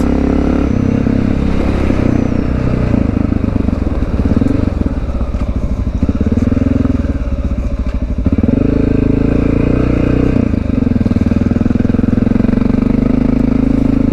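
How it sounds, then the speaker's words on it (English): A Honda XR650L dual-sport dirt bike runs steadily while riding, its single-cylinder engine loud and close throughout with continuous throttle changes and mechanical clatter, no talking. "Since I brought the dirt bike all the way out here, I figured I may as well put some time in and get a little riding in myself."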